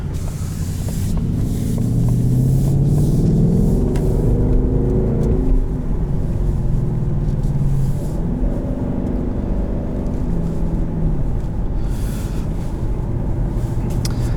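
A 2019 Ford Mustang GT California Special with stock exhaust, heard from inside the car as a loud, steady low engine drone that rises and falls in pitch through gentle acceleration and gear changes, with road noise beneath.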